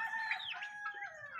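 Red Bourbon chickens and chicks on a small farm give bright, continuous clucking and cheeping calls, moderately near, with a soft low rustle beneath and no talk.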